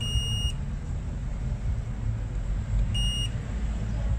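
A multimeter in continuity mode tests capacitors near the power IC on a dead Redmi Note 8 phone board. It gives two short, steady electronic beeps about three seconds apart over a low background hum.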